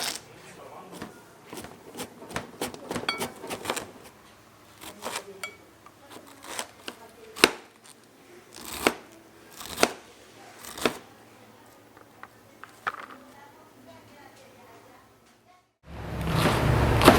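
Cabbage and carrots are sliced for coleslaw in a catering kitchen, with sharp, irregular knife chops and scrapes on a board, some loud and close, then a burst of broad noise at the end.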